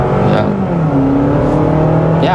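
A 2023 hybrid SUV, a Honda CR-V or Toyota RAV4, accelerates at full throttle, its loud steady engine drone rising in pitch as it gains speed, heard from inside the cabin.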